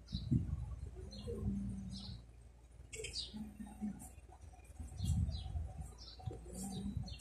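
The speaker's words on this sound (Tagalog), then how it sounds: "Ayun, may kalapati yun sa taas." Pigeons cooing on a house roof outdoors, soft repeated low coos over faint background ambience, with a few scattered chirps and a brief flutter of wings.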